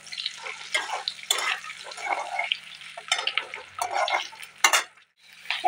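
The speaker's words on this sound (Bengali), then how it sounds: "ডিমটি ভাজি ভাজি হয়ে গেছে, তো এবার তো নামিয়ে নেব।" An egg frying in a pan on a home stove, with irregular sizzling and spatter bursts, close and moderately loud, alone without talk.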